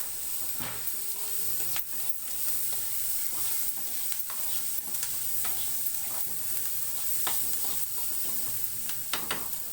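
Onion, curry leaves and green chillies fry in a pan for egg bhurji, a continuous close sizzle broken by frequent sharp crackles and spatula stirs.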